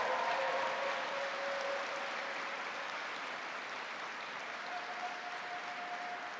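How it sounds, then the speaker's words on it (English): Steady applause fills the hall after a bill-signing speech by the New York governor, continuous and moderately loud, with no talking over it. "Big round of applause for them."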